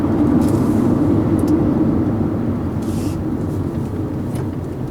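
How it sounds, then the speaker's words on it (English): Steady hollow road noise rumbles inside a 2014 Volkswagen Jetta SE 1.8T at lower speed, a constant low drone that fades slightly toward the end, with no voices. "at lower speeds, there's a decent amount of road noise, and it has kind of a hollow sound the way it transmits through the car"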